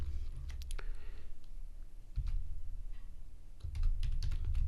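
Bursts of rapid key clicks from a computer keyboard, close and crisp, with short pauses between typing runs over a low background hum.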